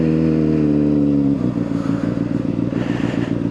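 Honda motorcycle engine idling with a steady harmonic hum, then shifting to a rough, pulsing clatter as the clutch is worked during low-speed clutch control practice; close and fairly loud, no talking.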